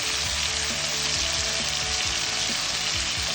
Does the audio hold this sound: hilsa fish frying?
yes